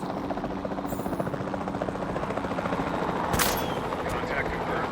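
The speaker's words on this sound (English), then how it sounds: "We'll start by tranquilizing one of the dinosaurs from the helicopter" Helicopter rotor chopping steadily in the Jurassic World Evolution 2 video game, a dense continuous thump mixed with game effects and bursts of noise, with a voice talking over it.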